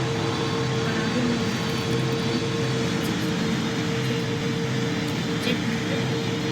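An airplane in the Roblox game PTFS touches down on its landing gear, giving a loud, steady broadband engine and airflow roar with a constant hum throughout and a couple of faint clicks.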